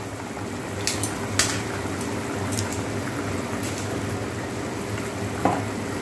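Water comes to a boil in a pot in a home kitchen, a steady bubbling hiss with low rumble and a few sharp clinks or splashes scattered through; no one talks.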